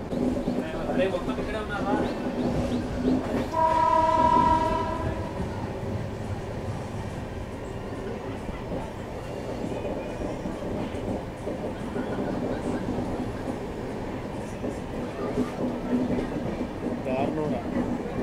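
The Hyderabad–Mumbai Hussain Sagar Express rolls along the tracks near Begumpet with a continuous rumbling roar, a brief tonal horn-like whine early on, and voices talking faintly underneath.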